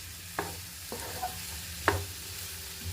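Onions fry quietly in a pan for a stir-fried dish, a low steady sizzle with a few light scrapes and taps from stirring spaced through it, no voices.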